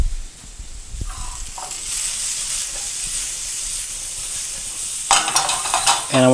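Squash sizzles and fries in a pan over medium to medium-low heat with other vegetables, a steady hiss throughout, then a louder crackling burst near the end as something stirs or is added.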